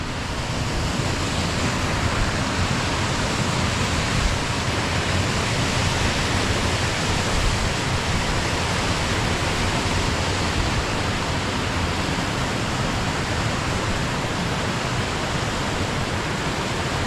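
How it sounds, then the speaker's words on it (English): Careyburn waterfall cascading fast and powerful, a loud, steady broadband roar of rushing water close by, unbroken for the whole stretch with no voices. "You hear the water cascading down here really fast and powerful."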